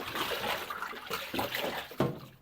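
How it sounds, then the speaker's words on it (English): Water is poured into a diesel heater's fuel tank to rinse it out, a close, hollow splashing and trickling with a sharper splash near the end. "Let's put a drop of water in there."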